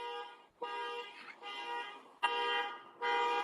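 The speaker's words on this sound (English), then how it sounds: "Somebody's alarm going off." A parked diplomatic car belonging to the Polish military attaché has its alarm blaring close by: loud, tonal wailing bursts repeat with short gaps between them.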